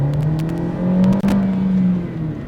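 A Kia Picanto GT-Line hums close by as it drives and accelerates, the engine tone climbing steadily with a brief dip as it shifts gear, then rising again under a whir of road noise.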